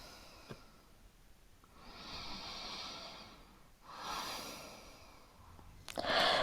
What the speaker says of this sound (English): Long inhale, long exhale